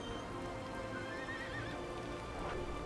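Horse whinnies and clattering hooves from the Battle for Middle-earth video game, with a rising neigh over a steady dense rumble of galloping cavalry.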